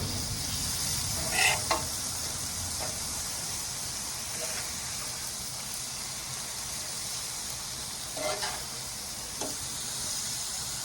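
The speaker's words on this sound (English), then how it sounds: "we're gonna go ahead and flip our skirt steak" A flipped skirt steak sizzles on a grill, a steady hissing fry heard close and constant over several seconds, with a few brief clinks and scrapes from the tongs and no talk.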